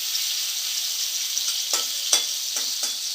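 Prawns and potatoes frying in a pan hiss steadily with a bright sizzle, broken by a few sharp scraping stirs of a spatula near the end, close and clear with no talk.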